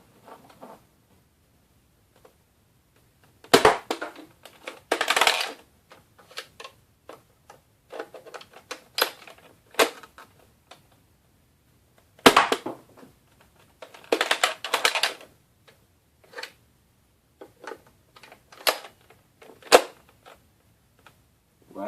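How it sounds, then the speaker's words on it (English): A Nerf Sledgefire blaster fires three darts from a single shell, giving short sharp clacks and mechanical clicks in separated bursts, close and fairly loud against near silence. "3 shots out of 1 sledge fire shell"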